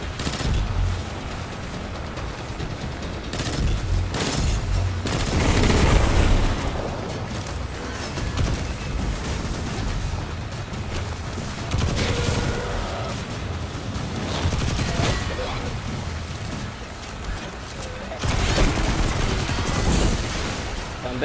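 Dense gunfire and booming shots in the Destiny 2 video game, with sniper fire all around, keep sounding in close bursts through the whole stretch and have speech mixed in.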